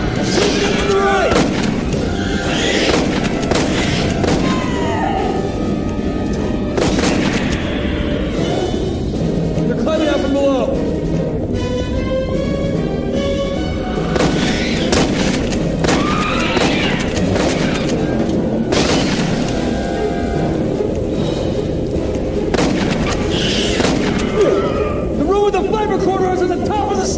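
Heavy gunfire and explosions from the video game Aliens Colonial Marines rattle in dense, continuous bursts under loud shouting voices and game dialogue throughout.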